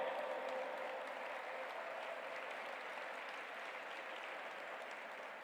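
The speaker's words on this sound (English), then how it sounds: "give a big round of applause, my friends" Applause from an audience at an interfaith summit after a speech, a soft, distant, even wash of many hands clapping that holds steady and fades slightly toward the end.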